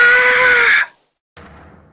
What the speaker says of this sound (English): That scream. I've heard that scream before.